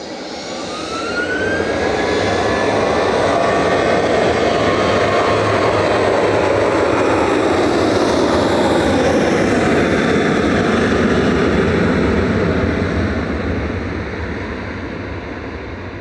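A TUI Boeing 737-800 jet, registration G-FDZS, roars at Manchester Airport, a loud sustained jet rumble and whine that swells in and holds before easing slightly, no talk.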